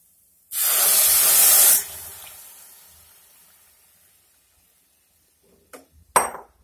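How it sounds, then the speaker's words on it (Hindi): Milk poured into a hot pan of roasted grated carrot for kheer, a loud sizzling hiss bursting out at once and then fading away, followed by a couple of sharp clinks of utensil on pan. "अब हम इसमें दूध डाल देते हैं।"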